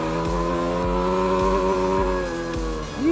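A car engine is held hard against the rev limiter on a cold 12-degree day: a loud, close, steady high-pitched drone broken by rapid rhythmic cut-outs, ending with a quick drop and rise in pitch.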